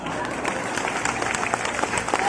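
An audience at a Hindi comedy poetry show claps continuously, a dense, steady patter of many hands at moderate distance, with crowd noise mixed in.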